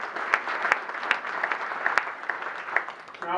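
Audience applause at an annual Rotary club meeting, a steady patter of many hands clapping in a hall, moderately loud and sustained throughout with sharper individual claps standing out.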